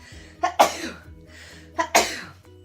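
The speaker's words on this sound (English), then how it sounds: "I have a little bit of allergies for whatever reason. I might sneeze." Two sneezes in quick succession, each with a short sharp intake before the burst, close and moderately loud.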